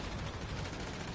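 Player's gun firing in GTA 5 Online, a continuous loud barrage of rapid shots filling the short stretch with no pauses.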